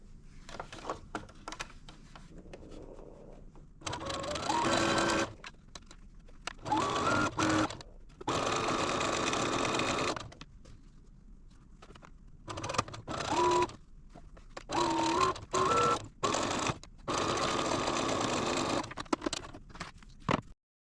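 A sewing machine stitches a quilt block seam at a tight 2.5 mm stitch length, running in bursts of steady mechanical whirring separated by short pauses, close and fairly quiet.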